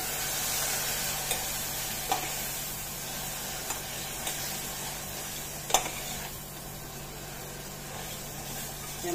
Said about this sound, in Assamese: মছলাখিনি আৰু অলপ ভালদৰে ভাজি লওঁ